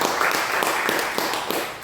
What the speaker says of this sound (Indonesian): Beri tepuk tangan untuk Bapak Ibu.